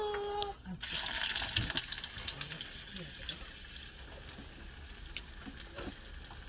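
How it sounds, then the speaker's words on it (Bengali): A steady, hissing sizzle of vegetable chops frying in oil with scattered faint crackles, after a short voice at the start. "দেখো বন্ধুরা আমি এখন তেলে ভাজছি"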